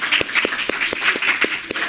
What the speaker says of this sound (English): can we just have like a round of applause thanking them in advance?